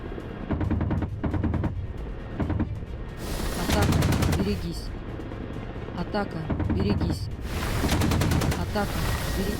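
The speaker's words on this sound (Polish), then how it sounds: "Dobra, odsunę się, bo strzelają." Rapid bursts of gunfire in the DCS World Ka-50 helicopter simulator, loud repeated rattling volleys over a steady rotor drone, with someone speaking between bursts.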